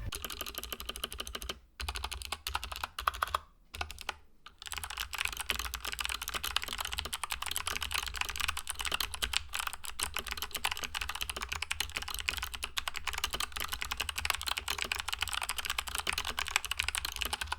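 Fast, continuous typing on a budget mechanical gaming keyboard with RGB backlight, a steady close-up stream of crisp key clicks broken by a few brief pauses, with no talking over it.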